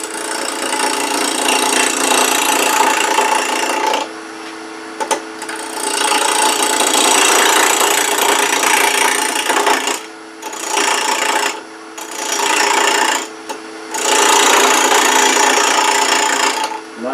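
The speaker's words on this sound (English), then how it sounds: "3/8 inch bowl gouge." A wooden twig pot spinning on a lathe while a 3/8 inch bowl gouge cuts it, giving a loud, continuous rasping, scraping roar broken by several short pauses as the tool lifts off the wood.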